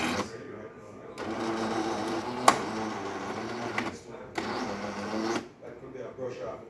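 A machine runs a quick rinse cycle, whirring steadily in bursts with short pauses between them, while a person talks over it at close range.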